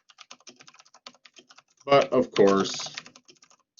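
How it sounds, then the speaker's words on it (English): Fast clicking on a computer keyboard goes on throughout, with someone speaking briefly in the middle while the keys keep tapping. "typing's hard today"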